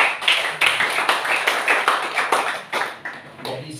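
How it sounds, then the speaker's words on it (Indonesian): Clapping from a church congregation at an Indonesian Sunday worship service, a steady, fairly rhythmic run of claps at moderate volume with little talk. "Kita berikan tepuk tangan dong Tuhan ya."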